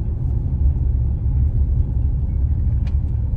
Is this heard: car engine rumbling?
yes